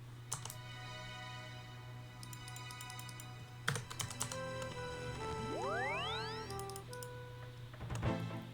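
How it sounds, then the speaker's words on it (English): Keys clack on a computer keyboard in scattered quick bursts during Old School RuneScape blood runecrafting, faint and close over a steady hum, with rising game chimes partway through. "I'm typing in chat."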